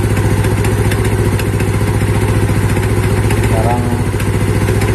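A Yamaha Mio Sporty scooter engine idles noisily close up, a steady rapid chugging with a clattery rattle running evenly throughout, with no talk.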